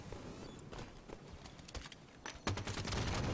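Bursts of assault rifle fire in a capture-the-flag shooter game, a rapid crackling fusillade that grows louder and denser toward the end.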